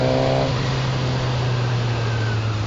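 A 1000 cc motorcycle engine idles with the clutch in, a steady low throbbing hum after a brief higher rev at the start, close and loud with road and wind noise.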